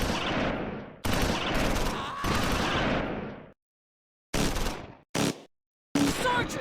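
Medium machine gun in Close Combat 4, a World War II Battle of the Bulge game set at Esch-sur-Sûre, firing on infantry near a stone bridge: several loud sustained bursts separated by brief silences, the later bursts shorter.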